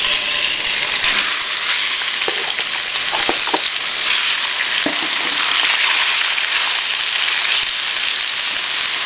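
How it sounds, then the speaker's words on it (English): Beef stir-fries in hot oil for a Chinese beef and broccoli dish, giving a loud, continuous close-up sizzle with a few soft scrapes and clinks from stirring and no voices. "Once the oil is hot, we can go ahead and add in our beef."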